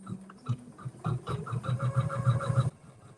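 An embroidery machine stitches an appliqué design with a steady, fast mechanical chatter of rapid needle strokes, close and continuous, stopping abruptly near the end.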